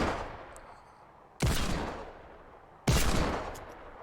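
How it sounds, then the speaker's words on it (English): Two loud, close single gunshots in a video game, each with a sharp crack and a long fading echo, about a second and a half apart. "I shoot this motherfucker down."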